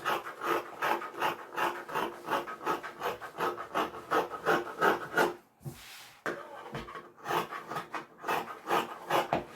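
Scissors trim excess fabric for a sweatshirt, giving close, rhythmic rasping snips in quick repeated strokes, with a brief pause midway before the cutting resumes.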